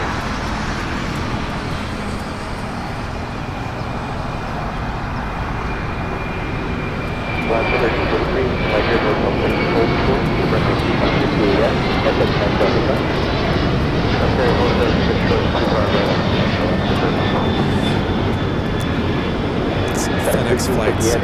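A Boeing 767-300 freighter takes off from runway 25 right at Los Angeles International, its jet engines a broad steady roar that swells louder about a third of the way in and holds, with traffic noise nearby.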